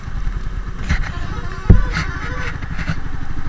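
Just after refuelling, a motorcycle engine runs close by at a steady idle with a low rumble and light mechanical clatter, and one sharp knock sounds partway through.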